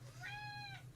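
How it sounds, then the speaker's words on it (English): A house cat gives a single short meow, clear but faint, with a low steady hum beneath it. "excuse my cats"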